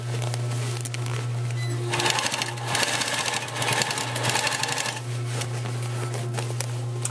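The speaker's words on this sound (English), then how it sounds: "I'm going to go up to this corner, leave my needle down, turn," A sewing machine stitches fabric for a fabric container, whirring steadily in close bursts and pausing between runs over a constant low hum.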